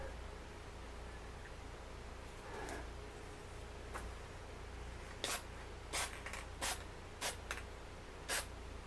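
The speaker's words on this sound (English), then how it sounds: "Then you want to just spray the surface of them lightly." Several short hissing bursts of aerosol spray paint, lightly coating puzzle-cube pieces, each about a second or less, spaced irregularly against a low background hum.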